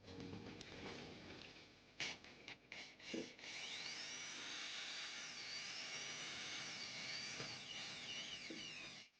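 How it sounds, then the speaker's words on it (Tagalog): A small 1 mm drill bores a hole through the cap of a metal fitting after its rubber seal is removed, giving a steady, loud, high whine that runs for several seconds after a few short bursts. "butasan natin ito gamit ang drill na may sukat na 1 mm"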